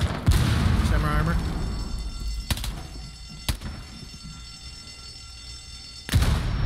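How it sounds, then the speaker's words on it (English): A grenade blows up in a first-person shooter with a heavy, rumbling blast, followed by several sharp gunfire-like cracks spaced seconds apart and another burst near the end, while a player talks. "That was a nade from the, from this window."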